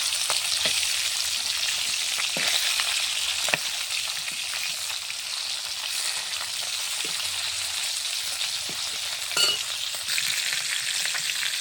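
Fish being turned in hot frying oil gives a continuous hissing sizzle with scattered pops and the clatter of a utensil now and then, close and steady, with no talking.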